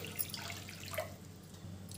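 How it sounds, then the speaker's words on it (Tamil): Water is poured from a tap into a pressure pan set on a stove, a soft, close trickle and splash that fades after about a second over quiet kitchen hum. "அதுல தண்ணி ஊத்திடலாம்"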